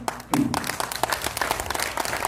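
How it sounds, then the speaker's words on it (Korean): Quick, dense applause from an audience at a party members' education session, steady clapping that swells after a brief pause and keeps going, close and fairly loud. "박수입니다"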